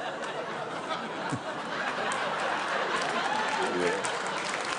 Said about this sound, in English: Yeah, applause break